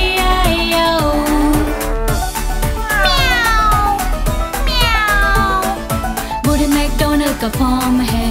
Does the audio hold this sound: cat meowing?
yes